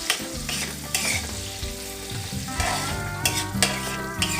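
Onion sautés in a pan for chicken pishpash, a close, busy sizzle broken by repeated spatula scrapes and stirring bursts throughout.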